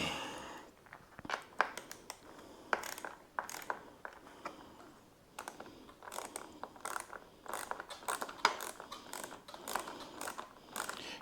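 A socket set ratchet working on the fender bolts of a Polarna X-01, with quick bursts of clicking pawl turns and short pauses in between, close and fairly quiet, no voices.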